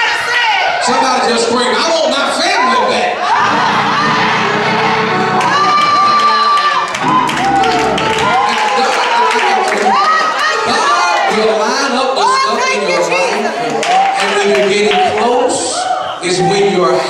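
A church congregation shouts and screams together in a loud, continuous roar of voices, with whoops and cheers rising and falling throughout.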